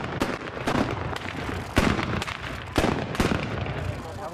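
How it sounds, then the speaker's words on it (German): Ceremonial black-powder salute guns (Böller) fired at an outdoor political event in Germany, several sharp booming reports spaced about a second apart over continuous crowd noise and rumble. "Wir werden 2 Böllerschüsse machen."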